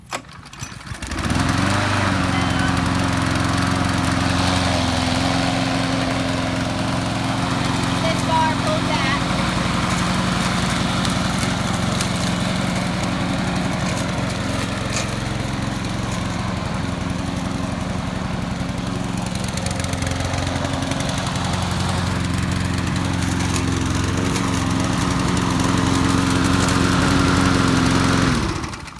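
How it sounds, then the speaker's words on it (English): A small push lawn mower engine, pull-started, sputters to life and runs steadily at a loud, droning idle throughout, with someone talking over it. "you're just going to pull on this, and this will start your lawnmower for you"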